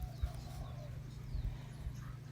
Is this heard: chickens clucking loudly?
yes